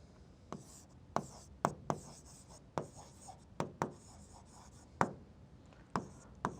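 Pen or marker writing on paper while solving a coordinate geometry exercise, heard as a series of short, sharp taps and scratches at uneven intervals, close and fairly quiet, with no speech over them.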